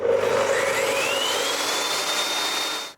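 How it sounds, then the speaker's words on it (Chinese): A dust extractor vacuum hooked to power tools during home renovation woodwork runs with a loud, steady close whine, its pitch sweeping upward as it spins up, then cutting off abruptly. "那就还会有一个吸尘继电机的声音。"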